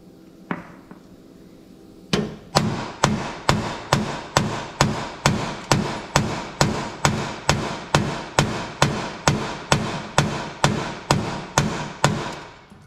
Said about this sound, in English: Try it with the big hammer again.